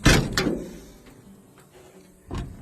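Sticking door of a vintage car being opened and shut, giving a sharp clunk and rattle at the start, faint creaks in between and another thud near the end, close and fairly quiet.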